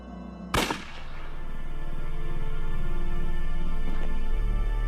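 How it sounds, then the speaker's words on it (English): A single sharp gunshot cracks out in the adventure game Unavowed, loud and sudden near the start, then decays into a sustained low droning ambience that swells steadily afterward. "Was that a gunshot?"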